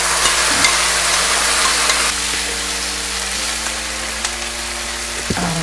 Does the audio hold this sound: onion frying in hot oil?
yes